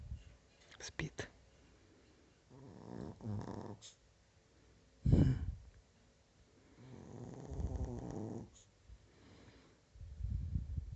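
A chihuahua snores in rhythmic low bursts with soft snorts, each breath rising and fading over several seconds, close and fairly quiet, with gaps of near silence between.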